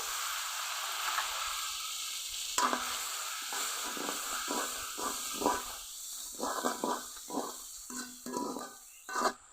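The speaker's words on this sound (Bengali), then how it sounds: "পরে দিল মশলার সাথে ভালো করে কষিয়ে নেব" Spices with tomatoes, turmeric, chili and salt sautéing in a pan for a mrigal fish curry: a steady sizzling hiss with repeated scraping stirs and clatters of the spatula, close and moderately loud, no talking.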